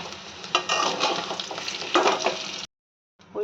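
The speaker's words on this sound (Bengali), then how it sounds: "ডিম আলুটা এখানে ভাজা হয়ে গেছে, এবার আমি এটাকে তুলে ফেলবো।" Egg and potato sizzle steadily in hot oil, loud and close, with a spatula scraping and stirring through it before the sound cuts off and briefly returns.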